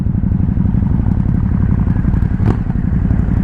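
Ducati Hypermotard SP motorcycle on a test ride, its engine a loud, steady, close-up rumble heard from the rider's position, with a brief rattle partway through.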